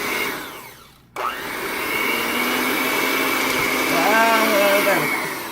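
An electric hand mixer whirs steadily through cookie dough as peanut butter chips are mixed in, loud and close, briefly cutting out near the start before revving back up with a rising whine.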